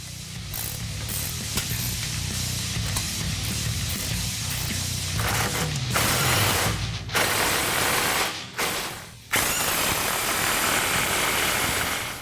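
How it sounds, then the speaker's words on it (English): A wrench ratchets steadily on the flange bolts at the Y-pipe and loop pipe of a Jeep Wrangler 4-door's Borla cat-back exhaust, with rapid close clicking and a few brief pauses between bursts. "Tighten the flange at the Y pipe and loop pipe with a 16 and 17 millimeter wrench."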